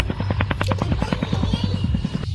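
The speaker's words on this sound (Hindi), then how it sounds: "उन्होंने हमारे हेलीकॉप्टर भेजा है पार्टी में बुलाने के लिए" Cartoon-style toy helicopter flying, a steady rapid rotor chop pulsing through the whole stretch, loud and close over a constant buzzing hum.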